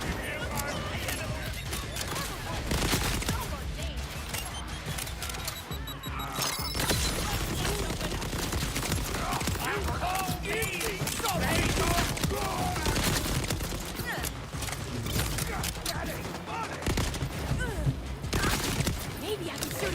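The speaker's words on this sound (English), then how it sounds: "Maybe I can shoot him before he talks." Sustained gunfire in Borderlands 4, a dense, loud stream of shots and mechanical clatter running the whole time while a player talks over it.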